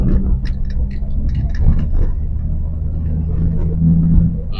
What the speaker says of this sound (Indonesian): Suaranya merdu ya kalau pakai knalpot racing tuh, enak gitu dengernya.